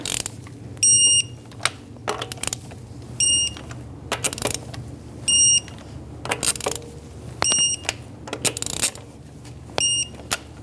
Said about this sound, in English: Now with the 17 millimeter socket, I'm going to torque my wheels to 89 foot-pounds